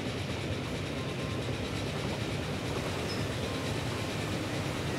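A train in the rail-building game Transport Fever rumbles past along a lakeside line, a steady wheel-on-track roar with faint rhythmic clacking, continuous and moderately loud.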